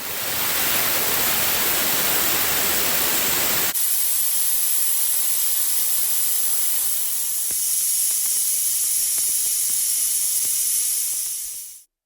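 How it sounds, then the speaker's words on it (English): A Husky 33-gallon air compressor tank vents its compressed air in a loud, steady broadband hiss lasting about twelve seconds. The hiss is harshest for the first few seconds, then drops a little and holds until it cuts off abruptly. "All the pressure has been released."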